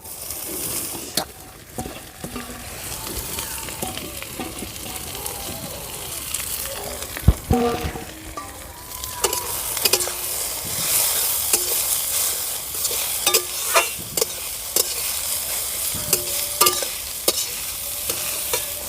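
Chopped mustard greens fry in a pan with onion and green chili, giving a steady close sizzle broken by frequent scraping and tapping from a stirring spatula.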